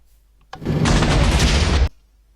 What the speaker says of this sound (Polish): Nie sądzę, żeby ktokolwiek w Minecrafcie przeżył taki wybuch.